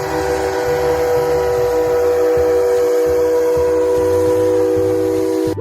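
A toy ghost train gives a long, loud, unbroken steam whistle blast that holds steady the whole time, with a rumbling mechanical chug pulsing underneath and no voices.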